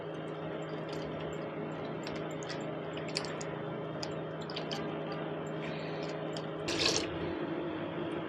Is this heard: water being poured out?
yes